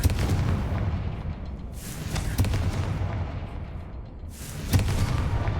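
Booming blasts of the Confringo fire spell in Hogwarts Legacy, deep rumbling explosions that swell and roll over a dense, continuous roar of combat noise.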